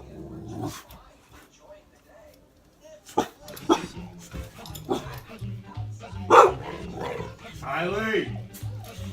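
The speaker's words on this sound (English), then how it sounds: "She doesn't even know who she's barking at." A dog gives short barks and low growls mixed with whimpers, close by, while people talk over it.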